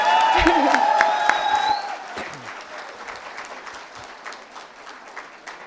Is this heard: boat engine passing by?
no